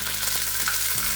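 Garlic with pesto sauce sizzles in olive oil in a pan while being stirred: a steady close crackling fry with soft scraping of the stirring.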